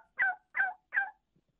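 A turkey call worked by a person to imitate a young jake's gobble, three quick evenly spaced gobbling bursts, close and clear, with no speech.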